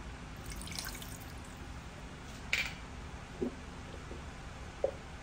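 A few small liquid drips and splashes as four tablespoons of water are poured into a stuffed tofu sauce of fish sauce and oyster sauce, faint and close against a quiet background.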